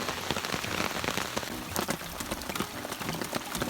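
Steady rain patters densely on a nearby surface on a canoe camping trip at Buckskin Lake, Haliburton, a continuous hiss of drops with sharper individual splashes scattered throughout.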